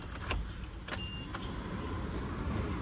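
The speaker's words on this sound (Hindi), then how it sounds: "अब लगाते हैं गाड़ी में चाबी और करते हैं इग्निशन स्टार्ट" Mahindra Bolero Neo SUV engine turning over after the key ignition, settling into a steady low idle rumble heard from inside the cabin, with a few brief clicks and rattles at the start.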